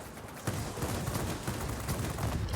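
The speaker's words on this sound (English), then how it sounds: "Volleys of 3 shots." Aircraft cannons in World of Warplanes, featuring the Shenyang JL-1A-37, firing in rapid bursts, a dense rattling fusillade that starts abruptly and keeps going, loud and close with no speech.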